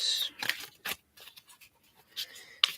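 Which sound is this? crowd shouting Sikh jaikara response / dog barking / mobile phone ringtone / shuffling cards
shuffling cards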